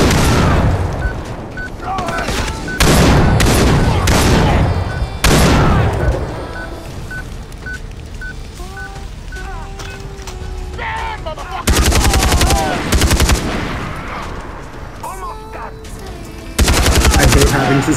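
Automatic weapon fire in the Far Cry 3 video game, loud sustained bursts of rapid shots broken by short pauses, with game sound effects between the volleys.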